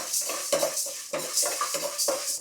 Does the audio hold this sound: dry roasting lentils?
yes